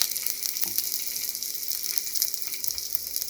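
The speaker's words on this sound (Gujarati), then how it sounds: "નીચેની સાઈડ પરાઠાને સારી રીતે શેકાવા દઈશું." A masala onion paratha frying in a pan over medium heat gives a steady, close sizzle with occasional faint clicks and scrapes.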